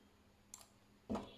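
Two mouse clicks while working in Marvelous Designer 3D garment software: a faint, soft tick near the middle and a louder, sharper click near the end, set against a quiet room hum with no talking.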